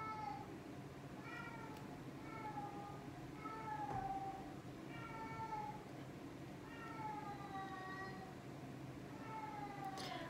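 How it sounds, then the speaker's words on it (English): A cat meows repeatedly in drawn-out, whiny cries, about six or seven calls at a steady pace over a constant background hum. "Do you hear this cat?"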